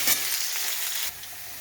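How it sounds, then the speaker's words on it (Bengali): Potato pieces sizzle as they fry until reddish in hot oil, a close, bright crackle that drops to a quieter hiss partway through, with no voices. "তেলের মধ্যে একটু লাল লাল করে আলুগুলোকে ভেজে নিয়ে তুলে নিই"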